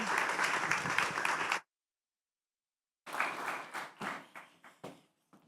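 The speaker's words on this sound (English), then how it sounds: "Give a round of applause to our speakers" An audience claps for a panel of speakers at a Nomads Connect Valencia event: a burst of applause for about a second and a half, a pause of silence, then clapping again that thins into scattered, separate claps.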